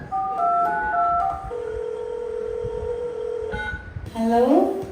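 Telephone dialing tones sound during a Tamil church comedy skit: a few short steady tones, then one long held tone, and a brief voice-like rise at the end.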